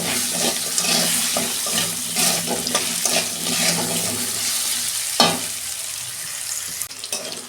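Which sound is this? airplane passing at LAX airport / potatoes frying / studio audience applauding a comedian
potatoes frying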